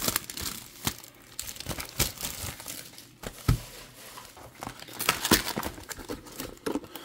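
Packs from a 2023 Topps Stadium Club hobby box are torn and crinkled open close by, with quick bursts of foil wrapper crackle and rustling at an uneven pace.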